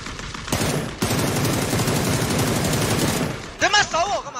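Video game gunfire: a sudden long burst of rapid automatic shots, loud and dense, then stopping, followed by brief excited voices.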